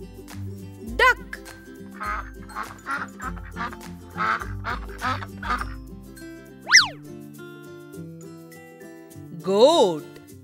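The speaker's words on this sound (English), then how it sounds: "Duck." Domestic duck quacking in a run of nasal quacks, close and clear, over a light musical backing with a couple of springy boing effects.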